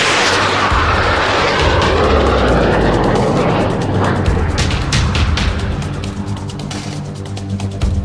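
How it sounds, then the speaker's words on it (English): Loud, roaring aircraft engines during a video game aerial battle fill the scene with a heavy droning rumble and a sweeping whoosh, steady and close throughout. "Enemy aircraft in the rear. Aim for the gunners in the back. We're in an aerial battle."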